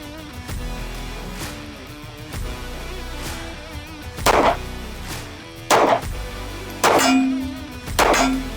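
A Smith & Wesson Bodyguard 2.0 pistol fires four sharp, loud shots spaced over a few seconds, each crack followed by a brief ringing tail, with low background noise between.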